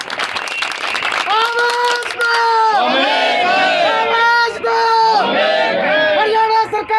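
Crowd at a Scheduled Caste community's indefinite protest sit-in in Jind, Haryana, claps and chants loudly. Shouted slogans ring over the applause throughout.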